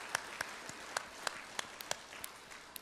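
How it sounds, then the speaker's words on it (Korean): A church congregation gives quiet, sparse applause to welcome newcomers during a Sunday service, with separate claps ringing out irregularly against a faint room hiss. "박수로 환영합니다."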